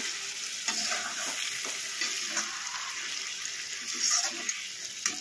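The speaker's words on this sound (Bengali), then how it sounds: "এখন একটুখানি জল ছিটা দিয়ে দিলাম" Cauliflower and potatoes fried in a pan after a sprinkle of water, giving a steady hissing sizzle throughout with occasional soft scraping stirs, fairly quiet and close, no voices.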